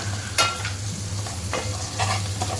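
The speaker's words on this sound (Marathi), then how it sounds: "थोडीशी हळद थोडंसं लाल तिखट बारीक गॅसवरतीच त्याला परतवून घ्यायचे" Turmeric and red chili powder sauté in oil over a gas stove. The sizzle is loud and steady, with a few sharp scraping strokes of stirring close to the mic, and no talking.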